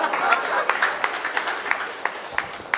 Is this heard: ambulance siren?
no